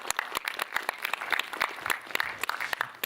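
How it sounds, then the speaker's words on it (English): An audience at a marketing masterclass panel claps for the panelists, a dense, even burst of applause holding steady for a few seconds. "let's have a big round of applause for all our panelists"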